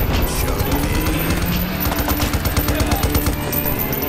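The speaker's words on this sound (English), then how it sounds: "Enjoy grenades!" The side-scrolling action game Huntdown plays dense, continuous gunfire and grenade blasts, with loud, rapid bursts and booms layered over game music.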